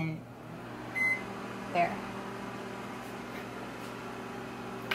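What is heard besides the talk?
microwave oven heating pet food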